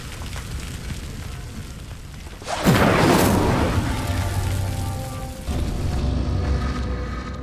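A conjured fire spell ignites a pyre in the Hogwarts Legacy video game: a sudden loud whoosh and roar of flames that crackles on for several seconds before settling into a steady burning hiss.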